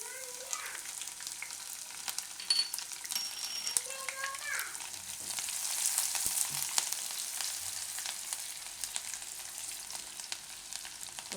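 Chilies frying in a pan for a ringna shaak with tanjariya greens, a continuous moderate sizzle that swells midway, with faint voices and small clinks in the background.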